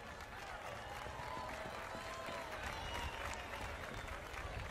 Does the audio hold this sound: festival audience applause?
yes